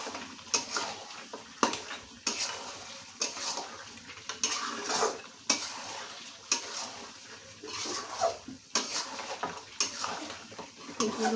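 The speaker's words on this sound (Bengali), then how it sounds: "আবার একটু নাড়িয়ে দিই, তা না হলে তলাতে লেগে যেতে পারে।" A spoon scrapes and knocks around a cooking pot as meat curry is stirred, repeated uneven strokes with clinks of metal on metal over a faint sizzle, close and fairly quiet.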